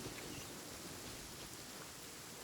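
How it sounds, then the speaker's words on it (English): Steady rain pours down in the Genshin Impact video game, a dense even hiss filling the whole stretch with no pauses and no voices over it. "And it's raining."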